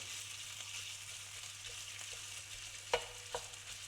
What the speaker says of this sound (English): get those sausages. We just want to cook them off slightly. Break them up with your spoon